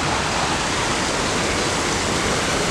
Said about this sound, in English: So this is the waterfall and this is the lake.